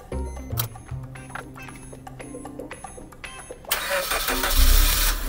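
Used second-hand car's engine cranking and catching, with a sudden loud burst into running after quieter clicks and background tones, rising to a steady close rumble.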